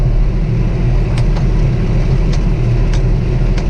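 A New Holland T4.70S tractor engine held at full throttle around 1600 rpm while working a harvested oat field, a loud, steady low drone with a few faint ticks on top and no voices.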